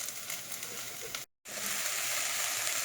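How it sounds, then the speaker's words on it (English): Leeks and carrots sauté in a little peanut oil over high heat, giving a steady close sizzle that cuts out briefly partway through and then resumes. "saute the leeks with a little bit of the peanut butter oil, okay, not very much, high heat."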